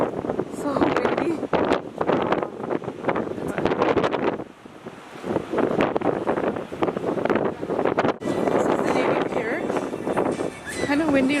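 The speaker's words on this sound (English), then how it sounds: "Kind of windy right now." Heavy stormy wind on a planetarium terrace in Chicago buffets the microphone in rough, roaring gusts, with a voice talking underneath and a brief lull partway through.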